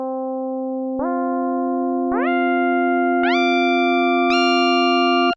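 Sustained synthesizer tone in poly mode, with new notes stacked every second or so into a building chord, each entry adding brighter harmonics, loud and steady, no voices.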